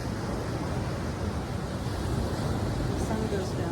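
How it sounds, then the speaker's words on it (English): Ocean waves washing ashore at sunset, a steady broadband roar of surf blended with wind noise on the microphone, continuous and fairly loud with no distinct breaks. "Let's just watch the waves for a little bit."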